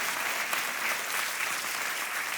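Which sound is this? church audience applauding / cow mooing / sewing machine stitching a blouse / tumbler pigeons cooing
church audience applauding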